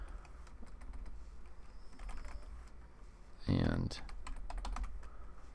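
Keys clatter on a computer keyboard as a product key is typed during a Windows Longhorn Build 4008 install in VirtualBox. The taps are close and uneven, and a brief word is spoken partway through.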